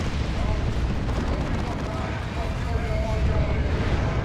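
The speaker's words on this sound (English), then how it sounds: "That's a rocket run." Rocket run strike in a Dawn of War 2 multiplayer battle, a dense rumbling barrage of explosions and gunfire filling the space, with a commentator's voice talking over it.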